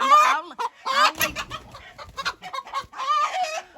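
A hen clucks and fusses in a garden, a close series of loud, rising and falling squawks and cackles in several bursts with short pauses between.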